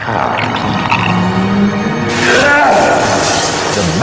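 A magic mirror made by a devil king shatters into countless tiny pieces in a Bulgarian Snow Queen audio tale: a loud, sustained crashing burst erupts midway and rings on over a narrating voice and a dense backdrop.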